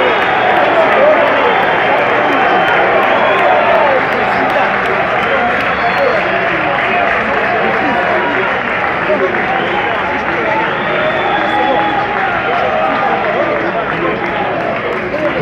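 Stadium crowd at a San Lorenzo versus Sarmiento de Junín football match, loud and sustained, a dense roar of whistling with some applause as the losing players leave the pitch.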